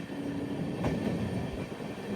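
An Amrit Bharat Express train on its inaugural run, Thiruvananthapuram to Charlapalli, rolls steadily with a continuous rumble and one sharp clack of wheels over track switches, heard from inside the moving train.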